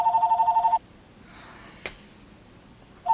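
A house phone rings in a repeated electronic trill, a burst that stops, then near silence with a faint click before the ring starts again, fairly close and clear.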